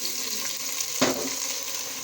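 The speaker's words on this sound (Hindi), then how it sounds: "अब आप देख सकते हैं हमारे लहसुन अदरक का पेस्ट फ्राई हो गया है। अब हम इसके अंदर टमाटर और हरी मिर्ची ऐड" Tomatoes and green chilies frying in ginger-garlic paste, with a steady bright sizzle throughout and one sharp burst of crackling about halfway when the wet ingredients hit the hot oil.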